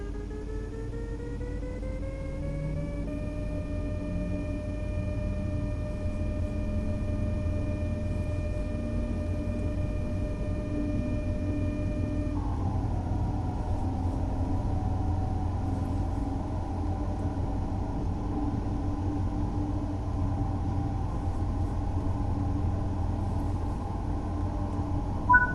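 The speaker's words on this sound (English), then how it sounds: "As the train accelerates, you can apply more power as needed." A train in Train Sim World 5 accelerates with a steady low rumble of wheels and traction, its electric motor whine rising in pitch and then levelling off and dropping as power is cut, continuous and fairly loud throughout.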